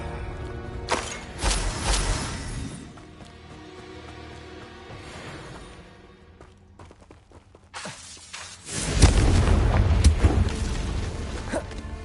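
In the video game Hogwarts Legacy, a Confringo spell explosion lands as a loud, deep burst near the end after scattered whooshes, thuds and quieter game sounds, then rumbles on.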